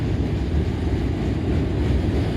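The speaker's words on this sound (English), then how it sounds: "This is all a unit gondola and all likelihood a tie train" A Norfolk Southern unit freight train of gondola cars, likely loaded with railroad ties, rolls steadily past at close range with a loud continuous rumble and rattle.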